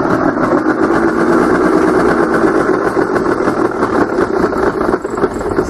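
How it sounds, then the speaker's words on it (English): A golf cart motor runs steadily and loudly close by, a continuous mechanical drone with no breaks and no gear engagement. "So the motor runs, but there's no gears."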